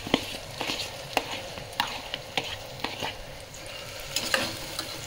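Dal and rice are stirred in hot oil tempering for masala khichdi, with regular scraping spoon strokes roughly every half second over a soft ongoing sizzle, close up and without talk.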